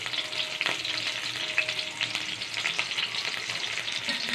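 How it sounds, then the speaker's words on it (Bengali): Chopped onion and green chilli frying in hot oil, a strong, steady close sizzle with crackles and spatters, with no talk over it. "তেলটা গরম হয়ে গেছে, পেঁয়াজ আর কাঁচা লঙ্কা দিয়ে দিলাম।"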